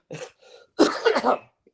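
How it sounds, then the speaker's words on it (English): A few short, close coughs, one faint hack followed by a harsher double cough, then quiet. "I'm gonna apologize for coughing and sniffling and all that tonight"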